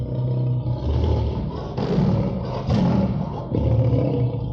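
A lion roars loudly in a children's sound game, with deep, rumbling bursts that swell and fade in repeated waves, heard close and alone.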